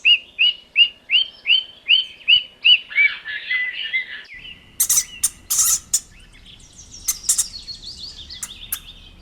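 A parrot calls with a rapid series of repeated sharp, piping squawks in a steady rhythm, then a scatter of louder harsh screeches and chatter, close and clear with no talk.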